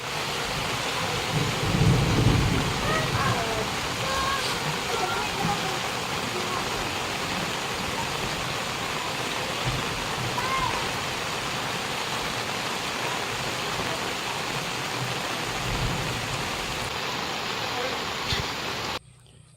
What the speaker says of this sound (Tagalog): sobrang lakas ng ulan yan